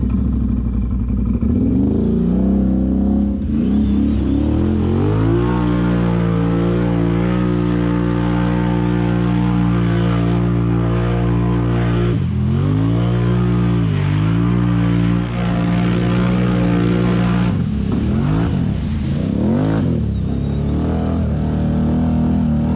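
Can-Am Renegade and Outlander ATVs ride at Lingham Lake, their engines droning loud and continuous with repeated revs rising and falling as several machines overlap.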